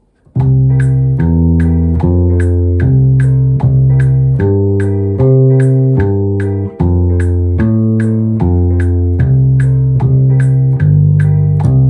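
A deep, loud walking bass line in steady even notes stepping through a blues progression, played alone without pause.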